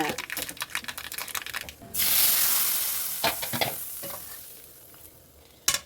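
Dried red chillies and peppercorns drop into crackling mustard seeds in hot cold-pressed coconut oil for a temple-style pumpkin curry tempering, a loud sudden sizzle that slowly dies down, with light stirring clicks before and after.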